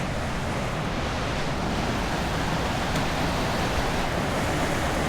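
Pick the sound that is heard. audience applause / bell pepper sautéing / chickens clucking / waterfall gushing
waterfall gushing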